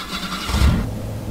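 A bus engine in Bus Driver Simulator 2019 cranks and catches in a short low rumble that settles into an idle, close and moderately loud.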